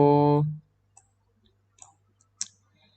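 A computer mouse clicks on a website button during an online insurance application. A short tone at the start gives way to a few faint, light clicks spaced out over a couple of seconds.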